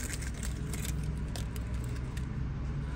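Keys for a 2021 Buick Encore GX Preferred AWD SUV jangle in a series of light metallic clinks over a low, steady rumble inside the vehicle.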